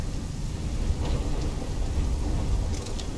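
A steady wash of heavy rain with low rolling thunder fills a stormy scene in Call of Duty Black Ops III, constant and dense, with a few faint higher clatters over it.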